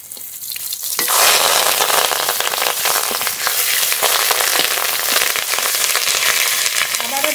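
Koi fish patori, fish wrapped in leaves, frying in oil in a covered pan over a low flame: a loud, close, continuous sizzle with scattered crackles that swells in after a quieter first second.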